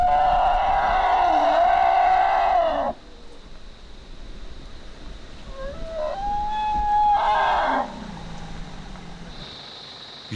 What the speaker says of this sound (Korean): 부부 코끼리인 것 같은데 갑자기 위협하는 소리를 낸다